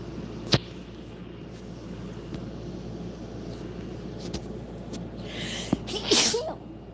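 One sharp sneeze bursts out near the end of a quiet indoor stretch, following a few scattered clicks and light rustles.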